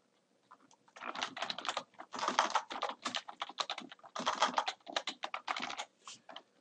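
Typing on a computer keyboard while entering essay feedback in Moodle: quick, close, quiet clusters of key clicks in short bursts with brief pauses between, no speech.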